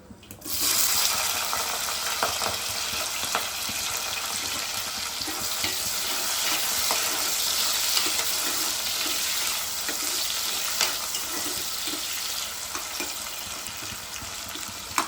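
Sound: onions and potatoes frying in a pan

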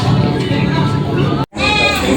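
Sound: goat bleating at a livestock auction market

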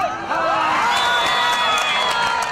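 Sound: spectators clapping loudly at a football tournament

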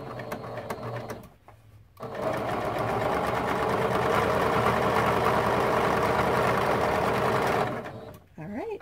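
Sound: sewing machine sewing a quilt block seam

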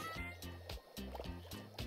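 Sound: washing dishes in video game Overcooked 2

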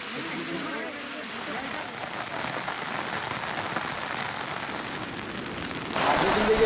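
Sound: heavy rain

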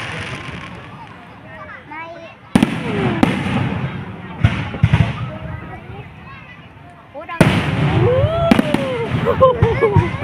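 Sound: fireworks display bursting

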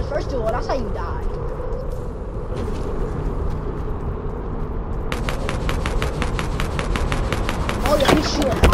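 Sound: gunshots in a video game

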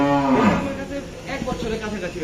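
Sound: cow mooing

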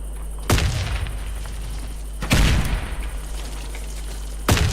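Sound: rapid gunfire in the video game Warface

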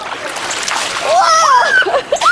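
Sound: splashing water on a dolphin

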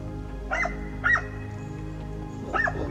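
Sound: hunting dogs barking during wild boar hunt

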